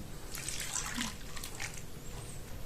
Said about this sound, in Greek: Θα καλύψω οριακά με λίγο νερό